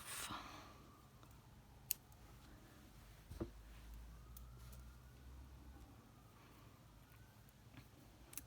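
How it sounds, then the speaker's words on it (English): Faint sirens wailing far off, rising and falling beneath a quiet room with a few small clicks and knocks nearby. "Sirens in the distance."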